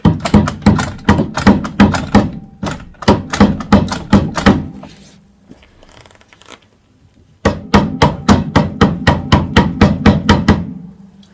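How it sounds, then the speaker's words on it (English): Suspension bushes being gently tapped into place with a hammer, rapid runs of sharp, close metallic knocks in quick bursts, broken by a short quiet gap with faint rustling before the tapping resumes. "notice I'm only tapping. I don't want to damage any of these bushes here."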